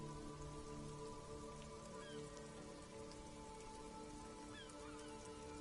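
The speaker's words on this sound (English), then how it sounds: "It's raining again." Steady rain falls in the video game Disco Elysium, a continuous dense patter on surfaces with faint tonal ambient music underneath, even and unbroken throughout with no talking.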